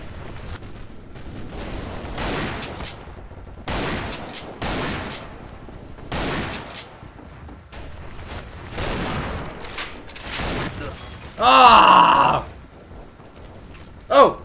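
Gunfire in a Half-Life 2 mod shooter, shotgun among the weapons: a busy run of bursts and repeated shots, then a loud sustained blast near the end and one last sharp shot, with shouted voices throughout.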